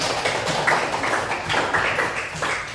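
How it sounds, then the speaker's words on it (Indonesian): A classroom group in an Islamic cultural history lesson receiving applause, a short burst of scattered, fairly light clapping that stays uneven across a few seconds. "Tepuk tangan untuk kelompok."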